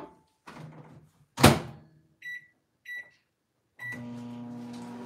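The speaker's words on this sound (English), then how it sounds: "then put it back in the microwave for 15 seconds" Microwave oven used to melt chocolate candy melts: door thuds shut, a couple of short beeps, then the steady hum of the oven starting up, close by.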